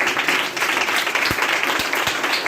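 A church congregation applauds during a Sunday service, dense steady clapping from many hands filling the room throughout with no speech over it.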